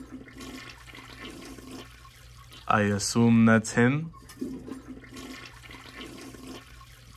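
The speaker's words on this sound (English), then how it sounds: "Second flush, huh?" A household toilet flushes in a bathroom nearby, a loud rushing gush lasting about a second and a half before draining away, with a voice speaking briefly over the start and quiet room noise around it.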